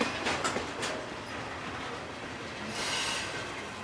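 CSX freight train Q130, led by SD50-2 locomotives 998 and 8541, with cars rumbling past in a steady roar, a few wheel clacks early on and a high squeal rising later, close and continuous with no talk.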